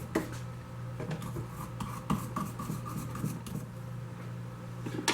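Wire brush scrubbing the wheel of a mop bucket during a stuck-swivel repair, giving a steady run of raspy, bristly strokes at close range over a constant low hum.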